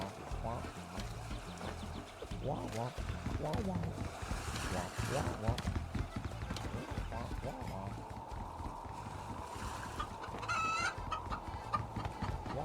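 A chicken clucks repeatedly in the video game SOPA - Tale of the Stolen Potato, low and steady throughout, mixed with ambient game sounds and a continuous voice talking over it.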